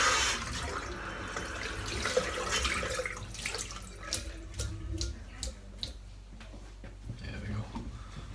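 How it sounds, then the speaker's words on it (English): A shaving brush is rinsed under hot running water at a sink, a steady close splashing flow with brief swishes and drips as the brush is passed through the stream. "Just one more little pass through the hot water."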